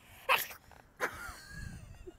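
A single sharp sneeze bursts out near the mic, followed a moment later by a second shorter burst, with faint low background noise between them.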